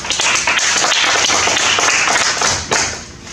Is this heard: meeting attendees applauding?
yes